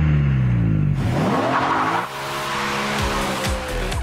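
A car driven fast revs hard with rising and falling engine tones, tires squealing through a corner, loud and close throughout.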